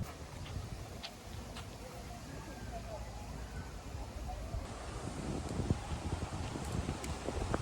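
Steady wind buffets the microphone throughout, a constant low rumble and rustle, close and fairly strong, with faint voices beneath.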